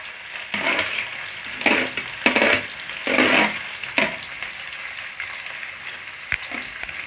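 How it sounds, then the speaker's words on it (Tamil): Sliced onions fry in oil for egg biryani, with a steady sizzle that swells into loud bursts as they are stirred, then settles back to a softer crackle near the end. "வெங்காயம் நல்லா கோல்டன் ஃப்ரை ஆகிற வரைக்கும் வதக்கி விட்டுட்டே இருங்க."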